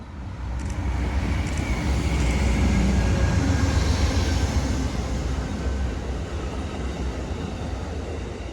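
Amtrak's Lake Shore Limited passenger train, led by Phase 2 Heritage Unit 130, rumbles past close by in Cambridge, a loud continuous roar of wheels and cars that swells and then slowly eases off.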